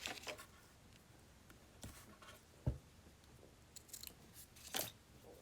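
Scissors cut paper for an altered book craft journal in a few quiet, separate snips with small rustles between them, close and faint with no talking.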